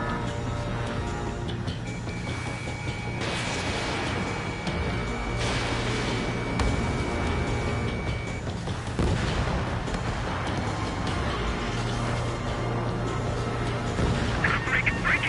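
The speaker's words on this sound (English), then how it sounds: "The harbor's under heavy fire!" Heavy artillery pounds a harbor in a video game, with repeated booms and blasts rolling under loud battle noise while voices shout over the bombardment.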